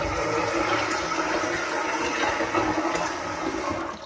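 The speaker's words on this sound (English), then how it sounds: "So now I'm going to put here again warm water." Warm water is poured steadily onto maize (popcorn kernels) while preparing oyster mushroom spawn, making a continuous loud rushing splash that lasts about four seconds with no speech.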